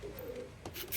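Pigeons coo softly and close by: a brief, low, murmuring call with some faint rustling from the birds.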